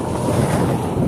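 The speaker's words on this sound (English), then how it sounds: "Breeze off the tractor trailer going by." A tractor trailer rushes past a cyclist pedaling west on Highway 90 across northern Florida, a loud, steady, close whoosh of air and road roar with heavy wind buffeting, lasting about a second with no talking.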